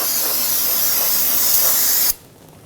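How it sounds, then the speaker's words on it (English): Aerosol solvent sprayed onto the back of a rear brake wheel cylinder on a 1997-2006 Jeep Wrangler to clean off brake fluid; one steady, loud, close hiss lasting about two seconds, then it stops abruptly. "grab some spray solvent, spray down the back of it, get rid of any of that extra brake fluid"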